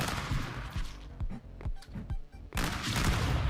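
Rapid assault rifle bursts in the video game Stick Fight, loud clattering volleys crowding the first and last second with sparser sharp shots between, close and dense.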